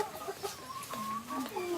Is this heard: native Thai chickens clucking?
yes